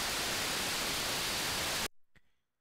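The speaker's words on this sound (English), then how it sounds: "The white noise on AM's is much more pleasant to the ears" Dense hiss of white-noise static from AM radio reception on an RTL-SDR v4 receiver, loud and steady for nearly two seconds, then cutting off abruptly into near silence with a faint click.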